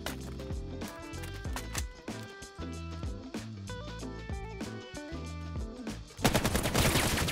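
Rapid gunfire from a VR shooter game, Vail VR: dense bursts of sharp shots in quick succession, loud and sustained, with a brief louder blast near the end.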